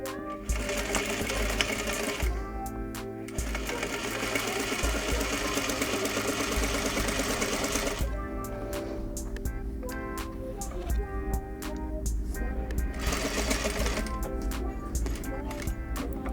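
A domestic sewing machine runs in long steady bursts while top stitching trousers, its rapid even needle rhythm broken by short pauses, close and clear with no talk.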